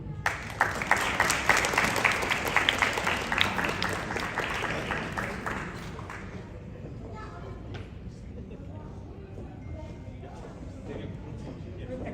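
Crowd applause rings out for honorees at a Phagwah Holi celebration in Queens, brisk clapping that stays strong for about six seconds, then drops away to a quieter room murmur with scattered voices.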